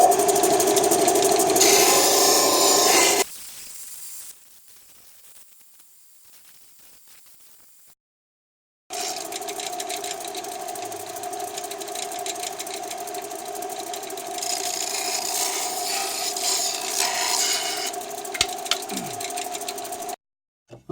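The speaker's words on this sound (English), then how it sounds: "I've got a belt sander." A belt sander rounding the edges of wooden hatch slides for a small sailboat, a loud steady motor whine running for a few seconds, cutting out to near silence, then starting again and droning on for about ten seconds.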